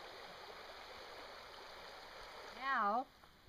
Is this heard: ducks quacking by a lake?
no